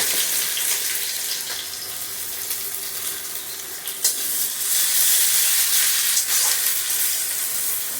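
Sliced onion goes into hot oil with already fried cumin seeds, giving a steady, loud, hissing sizzle that flares up brighter partway through, with no talking.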